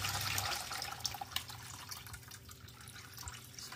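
Bosch dishwasher drain pump in continuous drain, pushing water out with a steady watery rush and a few gurgling spurts from air bubbles in the line, close and moderately loud.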